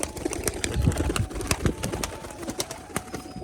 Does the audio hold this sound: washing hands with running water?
no